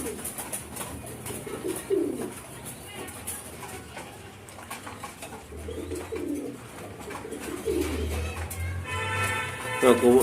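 Racing pigeons of a Jackpot line in a loft coo in low, rolling bursts close by, repeated over several seconds, while someone talks over them.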